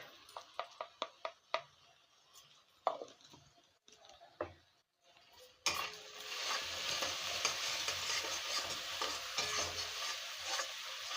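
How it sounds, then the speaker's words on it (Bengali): A spatula scrapes and clicks in a sequence of sharp taps as ground pepper, cumin and coriander are stirred in a pan for dried fish, then a loud, steady frying sizzle takes over close by. "দিয়ে ভালো করে মিশিয়ে নেব।"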